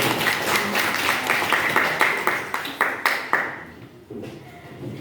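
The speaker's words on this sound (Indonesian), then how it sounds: "Kita kasih aplaus untuk Sarul." A classroom of students claps together for a classmate, a dense burst of applause that fades over several seconds into quiet.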